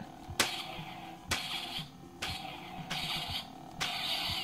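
A toy Star Wars color-change lightsaber hums steadily while sharp electronic clash crackles burst out about five times at roughly even intervals, loud and close.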